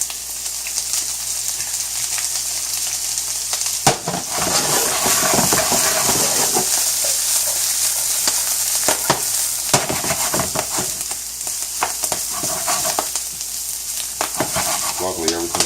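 Broccoli stir-frying in olive oil over medium-high heat, a loud, steady sizzle and crackle that runs throughout, with scraping stirs and bursts of spitting oil.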